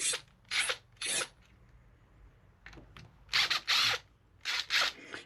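Screws being driven out of a construction pine waste block: short bursts of gritty, scraping rasps from a driver, close and moderately loud, in uneven clusters separated by quiet pauses.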